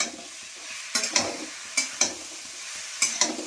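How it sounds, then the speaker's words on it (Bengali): Spice paste with turmeric and a little cumin frying and being stirred in a pan, a soft continuous sizzle broken by several sharp scraping strokes of the spoon at irregular intervals. "হলুদ, হালকা একটু জিরের গুঁড়ো দিয়ে আমি ভালো করে মশলাটাকে ভালো করে কষিয়ে নেব"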